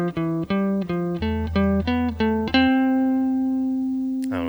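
Electric guitar picking a scale in thirds, a quick run of single clear notes stepping upward with sustained tones, ending on a held note and a brief noise at the end.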